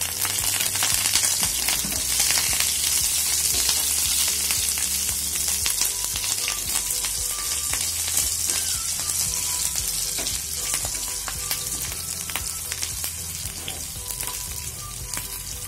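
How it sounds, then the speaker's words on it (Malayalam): Anchovies (natholi) frying crispy in hot oil with green chillies and curry leaves, a steady dense sizzle with occasional stirring clinks, close and continuous throughout without speech. "ക്രിസ്പി കൊഴുവ ഫ്രൈ ഇവിടെ റെഡി ചെയ്യുന്നുണ്ട്"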